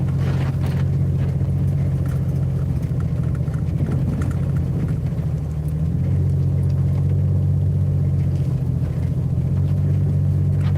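A Jeep crawls along an unplowed Virginia road under about ten inches of snow at roughly quarter throttle, its engine a loud, steady low drone that dips briefly midway before resuming.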